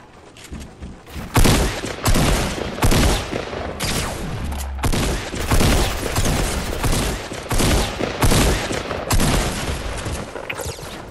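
Sniper and other gunfire in the Fortnite video game, a dense run of loud, sharp shots and rapid bursts that continues almost without pause, close and dominant with no talk over it.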